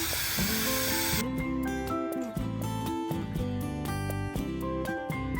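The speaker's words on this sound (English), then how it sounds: "got all my mortar and sand mix in, swept in. Now I'm just gonna mist it" A water mist sprays over a mortar and sand mix swept into a garden paving project, a short hissing burst near the start, followed by background music.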